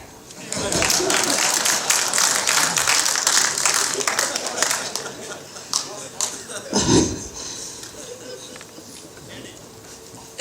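Audience applause at a film launch event swells into dense clapping for several seconds, then thins and tapers off, with a brief voice cutting through near the end.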